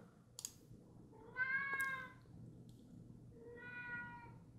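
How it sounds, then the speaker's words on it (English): A house cat meows twice, a short chirpy call followed by a longer one, close and clear over faint keyboard clicks in a quiet room. "ZBrush exports using cat noises, thanks to my cat"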